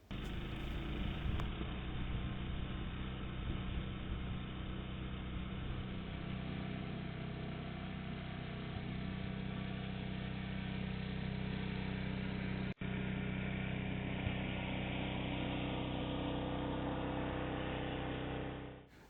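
A small gasoline snowblower engine runs steadily at close range on a long driveway of slushy snow, a continuous mid-pitched drone holding even throughout with no talking over it.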